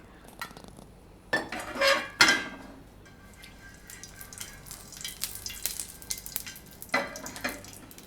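Oil going onto a heated deep iron griddle over a low gas flame for tomato besan pudla: a few metal clinks, then a soft broadband sizzle that swells and crackles unevenly for several seconds, close by.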